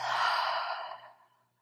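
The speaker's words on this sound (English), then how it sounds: "Deep breath." A single deep exhale during a hatha yoga relaxation, a long breathy sigh that is loud at first and then gradually fades out over about a second and a half, heard alone with no talking.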